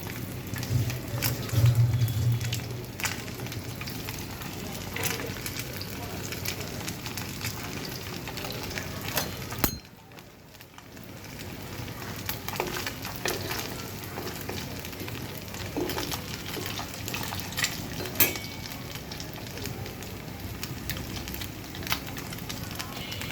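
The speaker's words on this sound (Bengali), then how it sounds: "গরম তেলে এখন এই যে কাটলেটগুলো দিয়ে দিচ্ছি" Fish cutlets fry in hot oil in a pan over low heat, a soft, steady sizzle running throughout with a short lull partway through.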